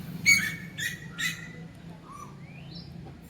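An Asian koel perched in a mango tree gives three loud, bright calls in quick succession, followed by softer rising whistles, heard fairly close in a quiet outdoor setting.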